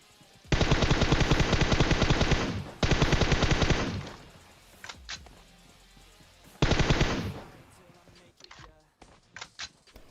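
Long bursts of rapid automatic gunfire in PUBG Mobile, loud and close, followed by scattered single shots and faint clicks.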